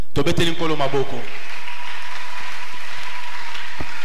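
A church congregation at a worship service breaks into a short burst of applause and cheering, loud and close, fading after about a second into room noise and a few scattered sounds.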